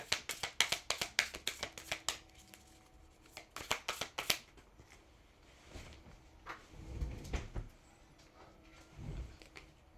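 Tarot cards are shuffled in quick crisp riffling bursts, two clusters of rapid snaps close by, followed by softer handling rustles and thumps.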